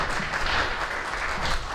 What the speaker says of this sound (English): Let's everybody give Tom and Lori another round of applause.